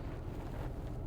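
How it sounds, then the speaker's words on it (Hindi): Cold wind rushes past a highway roadside in freezing weather, a steady dense broadband roar buffeting the microphone throughout with no pauses. "और ठंडी ठंडी हवा चल रही है"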